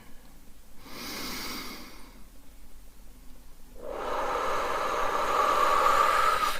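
A slow, deep breath drawn in during a calm Reiki grounding session, airy and close, rising gradually and sustained for a few seconds after an earlier shorter breath, with no talking.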